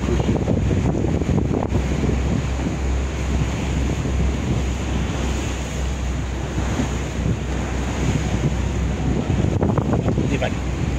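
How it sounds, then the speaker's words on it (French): Sea waves washing in along the shore at Collioure, a steady loud rush mixed with gusting wind buffeting the microphone, with no clear voices over it. "Des vagues sur le côté."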